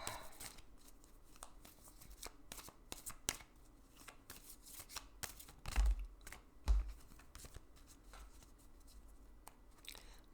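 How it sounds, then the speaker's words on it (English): A deck of playing cards is given a quick shuffle, a quiet run of rapid, crisp riffling clicks and snaps with no voices. "one more quick shuffle."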